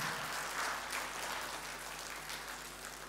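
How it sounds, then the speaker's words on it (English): Steady audience applause at an event honouring an emotional speech, a broad even wash of many hands clapping at moderate, fairly distant level without pause. "Once again, a huge round of applause."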